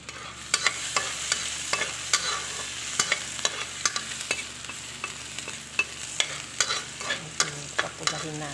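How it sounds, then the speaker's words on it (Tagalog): Minced ginger sizzles in melted margarine in a pan, a steady close frying hiss broken by repeated sharp scrapes and taps of a spatula stirring through it, with no voices. "Lagay ako ng margarine. And then, gisa natin yung ating konting minced na ginger."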